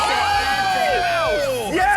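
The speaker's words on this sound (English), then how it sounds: "Why are you cheering?" Crowd at a game show cheering and whooping loudly, a dense continuous wall of shouting voices close by.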